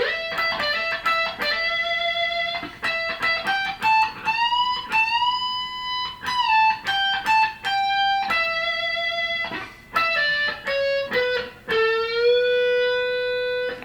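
Electric guitar plays a riff, a choppy run of picked notes with string bends and slides up the neck, loud and continuous with short gaps between phrases.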